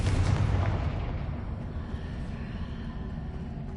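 Confringo explosive spell cast in Hogwarts Legacy, a loud booming blast with a rumbling tail that fades over a few seconds.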